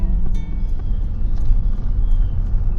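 A car driving slowly along a rural road through a small Georgia town, heard from inside as a loud, steady low engine and tyre rumble with faint light ticks over it.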